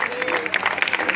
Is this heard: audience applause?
yes